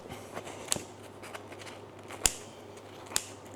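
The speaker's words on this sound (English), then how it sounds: "let me grab a pair of scissors and let me cut it up for you" Scissors snip through baked pizza dough made with poolish, three sharp, distinct cuts spaced apart against a quiet kitchen background.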